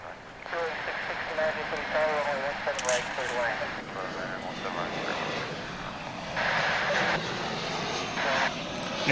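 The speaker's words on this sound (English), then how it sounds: "This is a 777 we saw coming in earlier." Engines of a Qatar cargo Boeing 777 at DFW International Airport give a broad, sustained roar with a whining tone. Voices are heard talking over it.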